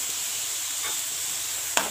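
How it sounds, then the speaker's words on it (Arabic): Garlic and onion frying in a pan, a steady close sizzle and hiss with faint scraping as they are stirred, ending in a brief sharp clink of the utensil. "قلبنا طبعا الثوم مع البصل"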